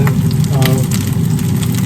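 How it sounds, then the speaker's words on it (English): Patties sizzle and crackle steadily in hot olive oil in a pan, a continuous close frying hiss with no talking. "You can hear a sizzle."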